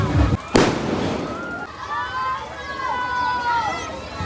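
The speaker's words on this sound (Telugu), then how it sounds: "శ్రీరామనవమి రోజు అయితే లాస్ట్కి చూసి ఉంటారు, బాంబులు అయితే ఘోరంగా వెళ్ళినాయి" Firecrackers burst during a Sri Rama Navami celebration: a sharp loud bang near the start, then crowd noise with whistling rockets and distant pops while people talk.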